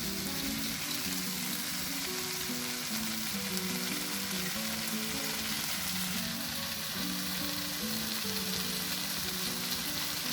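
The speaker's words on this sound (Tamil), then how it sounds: "அடுத்து பொரிச்சு வச்சிருந்த இந்த நெத்திலியும் உருளைக்கிழங்கும் அதில் சேர்க்குறேன்" Fried anchovies and potatoes hit a pan for potato and ikan bilis dry sambal and set off a dense, continuous hissing sizzle, steady and close throughout with soft music beneath and no voices.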